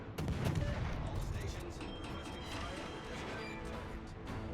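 Rapid, dense naval gunfire from the Kleber warship in a video game, sounding as a continuous steady barrage of overlapping shots and crashes that holds at a moderate level throughout.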